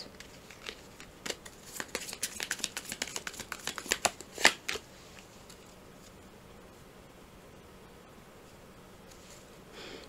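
A deck of tarot cards is riffled and shuffled in a quick run of crisp, rapid flutters that builds to a sharp snap, then gives way to near silence for the rest of the stretch, with no talking.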